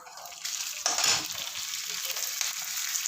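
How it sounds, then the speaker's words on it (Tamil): Urad dal and green chillies frying in hot oil, a steady close sizzle with a louder crackling burst near the middle as the chillies go in, continuing without speech. "உளுத்தம்பருப்பு கொஞ்சம் செகக்கட்டும். பச்சை மிளகாய் போட்டுடலாம்."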